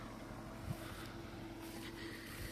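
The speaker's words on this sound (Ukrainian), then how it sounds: "Ось такий вітерець такий подуває" Light, steady wind rushes and buffets a microphone outdoors in a barley field, with a low droning hum underneath throughout.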